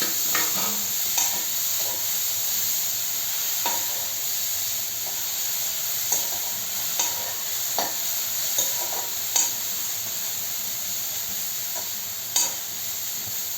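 Amla gooseberries dry roasting in a pan without oil, a soft steady sizzle and hiss with occasional light knocks and scrapes as they are stirred, close and fairly quiet, no voices.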